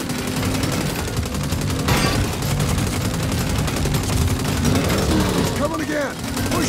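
Gunfire in the game Saints Row during a gang fight, steady overlapping automatic shots mixed with shouting voices and action noise throughout.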